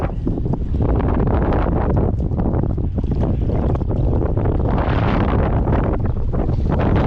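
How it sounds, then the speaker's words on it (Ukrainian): Strong wind roars and buffets loudly and continuously, with gusts rising and falling and no voices. "Ох, який вітер капець."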